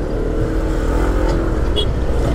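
Traffic on a congested road, Jl Raya Narogong, rumbles continuously nearby, with passing car and motorcycle engines and a brief high squeal.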